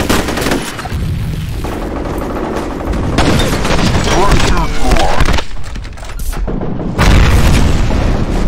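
Grenade blasts in the shooter F.E.A.R. Combat land amid dense gunfire, loud booming bursts mixed with rapid shots and shouted voice lines throughout.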